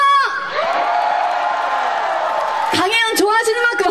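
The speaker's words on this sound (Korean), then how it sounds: "다시 한번 함성 질러볼까요?" A festival crowd at the closing ceremony of the Hamyang wild ginseng festival cheers and shouts in a loud, sustained roar, with an amplified voice calling out at the start and again near the end.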